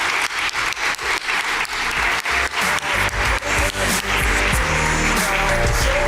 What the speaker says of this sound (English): maybe we'll give a round of applause for each of our panelists